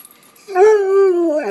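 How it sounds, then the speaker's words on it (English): A dog gives one close, loud drawn-out whine that rises into a howling, whimpering yelp for about a second, after a short quiet lead-in. "You gonna bark today?"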